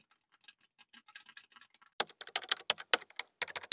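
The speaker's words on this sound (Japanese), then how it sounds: "ちょっとキーボードとかマウスを音を連打してみようかなと思います。" Rapid computer keyboard typing and mouse clicks picked up through a Corsair HS80 MAX wireless headset microphone, with light scattered taps giving way to a louder, denser burst of clicks partway through.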